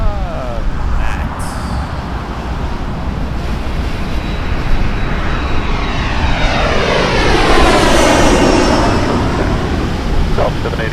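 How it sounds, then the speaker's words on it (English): Small Embraer jet landing at Toronto Pearson Airport, a broad steady roar of jet engines that swells and sweeps past near the middle, with constant rumbling airport background throughout. "little Embraer landing there"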